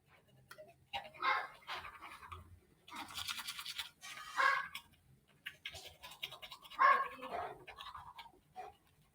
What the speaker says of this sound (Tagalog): Matagal ba kayo mag-toothbrush?